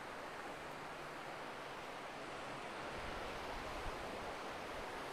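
Sea waves breaking on the beach at Side Kumköy, Antalya, in February, heard as a continuous soft wash of surf with a faint swell toward the end, distant and quiet, with no talking.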